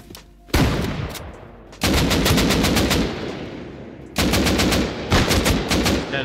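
Automatic rifle fire in the online survival game Rust on console, several loud rapid bursts of shots separated by short pauses, with clear sharp reports.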